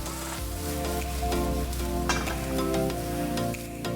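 Carrot, broccolini and mushroom sautéing in a pan for vegetable fried rice, a steady close sizzle with occasional stirring clinks, under soft music throughout.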